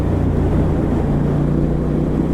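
A 2016 Triumph Thruxton R motorcycle engine held around 4,000 rpm while riding, giving a steady, loud, continuous drone with wind rush and no pauses.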